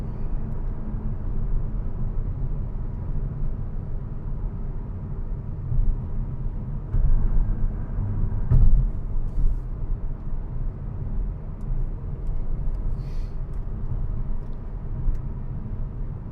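Acura TLX Type S turbocharged engine pulling at full throttle, a steady low rumbling drone heard from inside the cabin with a brief swell in intensity midway, no talking.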